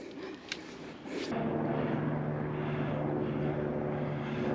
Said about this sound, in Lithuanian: Malūnsparniai skraido, tikiuosi ne mūsų ieško.